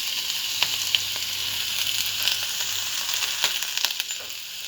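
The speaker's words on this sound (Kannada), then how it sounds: "ಇದಕ್ಕೆ ಕರಿಬೇವಿನ ಸೊಪ್ಪು ಹಾಕ್ಕೊಳ್ತೀನಿ" Curry leaves crackle and sizzle in hot oil while making a tomato chutney, a steady bright frying hiss with scattered sharp pops throughout.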